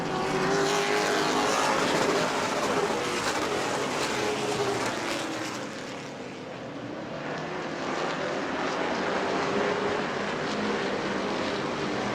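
Race cars roaring around the track at the Auburndale charity race under green flag: a loud, continuous engine drone that swells and dips briefly midway as the pack passes, with no talk.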